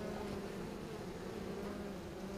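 Honeybees at a hive buzz and fan their wings in a dense, continuous drone, close and steady throughout.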